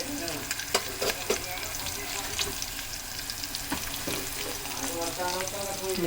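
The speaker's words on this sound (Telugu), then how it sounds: "మిర్చి కూడా ఫ్రై అయిపోయింది" Green chillies frying in oil in a pan, a continuous close sizzle with repeated stirring clicks and scrapes of a spoon against the pan, no voice over it.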